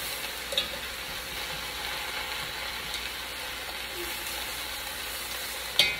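Garlic frying in a hot pan for meat patties in gravy, a steady crackling sizzle that holds at an even level throughout, with a couple of brief clicks.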